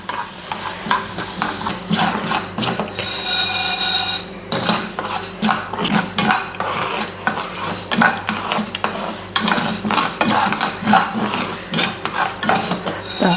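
A teaspoon of fenugreek seeds dry-roasting in a pan for a Valluvanadan mulaku pachadi, with a steady scraping and stirring of a metal spoon against the pan, a faint sizzle and clinks, and no voices.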